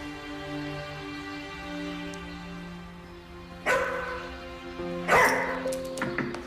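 A dog barks in a house while sustained music plays underneath, with two or three sharp close barks and yips in the last few seconds.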